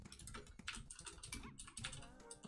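Rapid typing on a computer keyboard during a live coding session, a dense, close, steady clatter of keystrokes with no talking.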